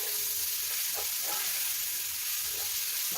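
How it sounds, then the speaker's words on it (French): Mushrooms sizzle steadily in hot oil in a pan while being stirred for a beef bourguignon, a continuous close frying hiss with a few soft scrapes of stirring and no voices. "On continue de remuer nos champignons."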